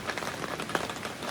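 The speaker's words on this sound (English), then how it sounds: "All that dripping you hear right now is just from the trees." Rainwater dripping from forest trees after rain at a riverside campsite, a constant close patter of drops hitting surfaces with one slightly sharper tap, no voices.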